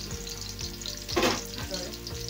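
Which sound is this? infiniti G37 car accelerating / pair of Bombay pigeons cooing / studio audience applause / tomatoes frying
tomatoes frying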